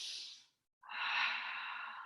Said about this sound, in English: Stay with it for two more deep inhales and exhales.